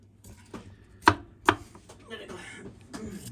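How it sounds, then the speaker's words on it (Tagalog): A knife chopping vegetables for chop suey on a cutting board gives a few sharp, close chops, two louder strikes standing out, with soft kitchen clatter between. "Yan, hiwain ko."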